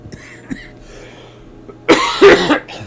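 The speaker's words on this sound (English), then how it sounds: "I apologize for the cough." A single loud, close cough bursts out near the microphone over a quiet background with faint low hum, lasting under a second with a couple of harsh peaks.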